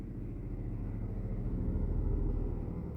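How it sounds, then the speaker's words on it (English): A heavy truck rumbles past on a road, a low continuous roar swelling and fading over a few seconds, with no talking. "Oh, big old truck is going by."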